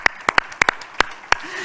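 Brief, sparse applause from a small audience honouring Cristina at a talk on Italy's recovery plan and sustainable future, a handful of sharp, scattered claps that thin out quickly.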